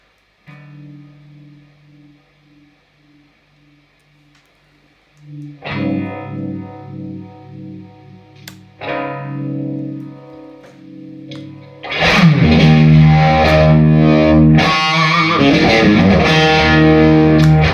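Electric guitar through a Roger Mayer Voodoo Vibe pedal with a shimmering, swirling chorus tone starts with soft repeated notes, then grows into loud strummed chords.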